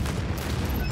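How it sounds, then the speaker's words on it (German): A nuclear missile explodes in the video game Anno 2205, a loud, dense, rumbling blast that fills the whole moment without a break. "Starte Nuklearrakete."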